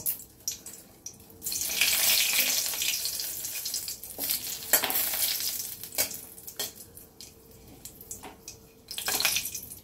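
Dried red chillies and bay leaves sizzle loudly in hot oil in a kadai, with bursts of crackling and stirring scrapes that rise and fall over about ten seconds.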